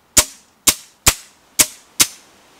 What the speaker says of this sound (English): This is a safe dry fire on the trigger.